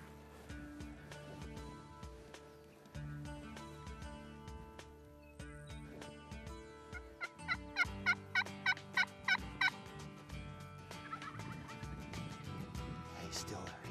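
A Merriam's wild turkey gobbles during a spring hunt in Nebraska, a fast run of rattling gobble pulses rising out of a noisy outdoor background mid-clip, moderately distant and fairly faint.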